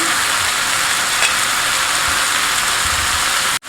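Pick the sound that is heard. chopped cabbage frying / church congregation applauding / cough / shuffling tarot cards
chopped cabbage frying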